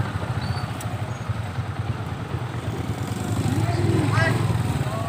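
A motorcycle engine putters and strains up a muddy uphill road, a rough, continuous, mid-distance drone that swells slightly toward the end, with people talking nearby.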